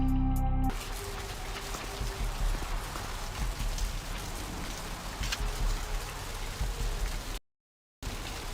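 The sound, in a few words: rain falling, from the video game Vampire The Masquerade Bloodlines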